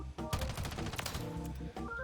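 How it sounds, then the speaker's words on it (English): Rapid automatic gunfire from a weapon in a video game, a steady stream of close, loud rounds lasting about two seconds before a brief pause. "as we begin to fire rounds"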